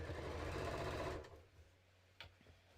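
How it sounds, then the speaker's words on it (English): A sewing machine stitching a bodice seam on a top, a loud, fast, even mechanical whir running steadily before stopping abruptly, followed by a couple of faint clicks. "And I'm going to keep stitching."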